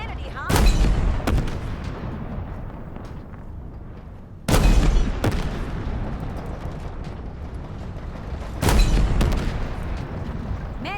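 An enemy turret firing in a Halo Infinite mission on the road: three loud, booming bursts of heavy gunfire about four seconds apart, each trailing into a rumbling battlefield din.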